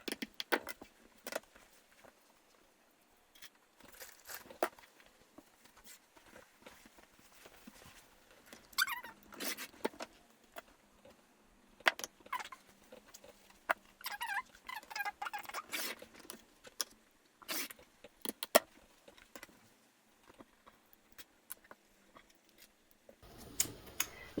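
Quilting fabric is cut, with faint, scattered snips, rustles and handling noises spread irregularly over a quiet background.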